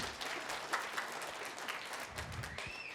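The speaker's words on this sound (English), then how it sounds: "Let's clap for her." Audience applause at a middle school winter band concert, a soft, distant wash of clapping heard from across a hall, steady and fairly quiet with faint room noise.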